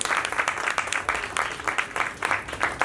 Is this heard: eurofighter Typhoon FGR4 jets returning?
no